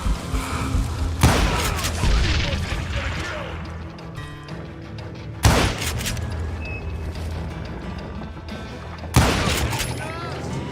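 Dynamite explosions in Call of Juarez Gunslinger, three sharp loud blasts spaced a few seconds apart, each decaying into rumble amid gunfire and battle noise.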